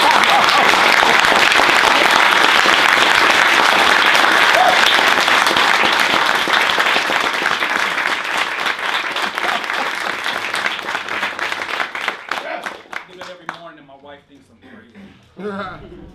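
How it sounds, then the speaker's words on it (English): Audience clapping loudly and continuously at a music producer talk, then gradually thinning out and fading to scattered claps over about sixteen seconds, with some voices and talk at the end. "Let's do some clapping real quick."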